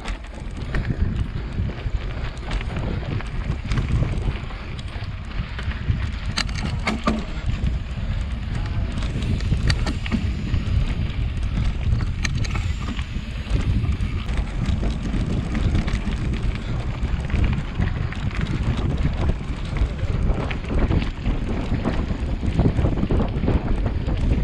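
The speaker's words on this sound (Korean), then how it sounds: "바람" Loud, steady wind buffeting the microphone on a mountain bike ride through Duryu Park in Daegu, a dense rumble lasting throughout with no clear voices.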